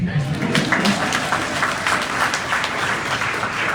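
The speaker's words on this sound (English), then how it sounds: "You can clap again." An audience applauds at the release of provisional national population and housing census results, a dense clapping crowd sustained loudly throughout.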